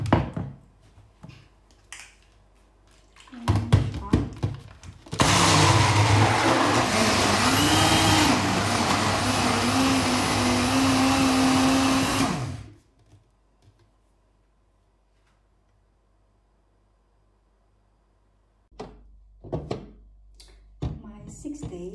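A small blender whirs loudly for about seven seconds, its pitch shifting as it runs, framed by quieter clicks and handling noises.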